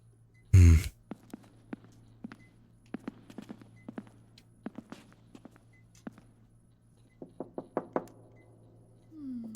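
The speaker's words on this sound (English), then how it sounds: "Stop banging on the door." Banging on a door in the video game Becrowned: irregular clusters of sharp knocks and thumps, some close and loud, others lighter, over a low steady hum.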